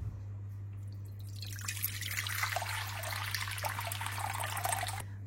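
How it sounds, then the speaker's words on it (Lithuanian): About 660 ml of water pours steadily into a container for sourdough bread dough for a few seconds, a gurgling stream over a low electrical hum, then stops abruptly. "man vienam kepaliukui reikia 330 ml vandens, tai pilsiu iš viso 660"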